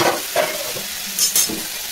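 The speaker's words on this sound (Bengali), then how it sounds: "মশলাটা একটু নেড়ে নিয়েছি" A frying pan of masala mixed with cumin powder is stirred in a few quick scraping strokes over a soft sizzle, close and fairly loud.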